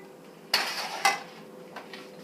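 A metal lid clanks onto a cooking pot of chicken with mushroom and mead sauce: two sharp close clinks in quick succession, then a faint softer tap, in a quiet kitchen.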